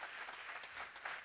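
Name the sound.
audience applause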